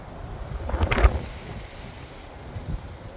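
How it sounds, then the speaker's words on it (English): Wind rushes over the microphone in low rumbling gusts outdoors among banana plants, with a brief louder flurry near the start and a softer gust toward the end. "Right, so we've got a windy day."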